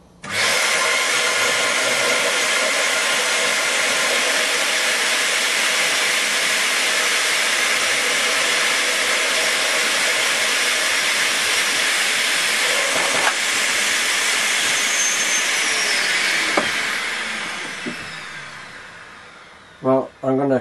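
Compressed air blown from a nozzle into the inlet pipe of a model beam engine, a steady loud hiss running almost throughout before fading out near the end, with a few small clicks at the close.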